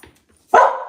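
A dog gives a single loud bark on command, coming suddenly after a quiet pause, up close and with no talking over it.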